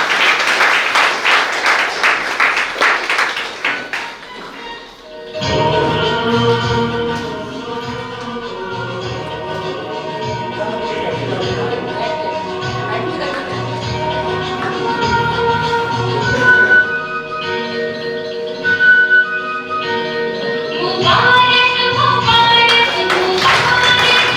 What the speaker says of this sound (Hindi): हम सभी जोरदार तालियों से भाव का सम्मान करेंगे।